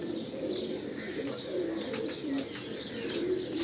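Racing pigeons coo repeatedly in a steady, fairly loud stream of soft rolling calls, with a few chirps mixed in, during a pigeon flying competition.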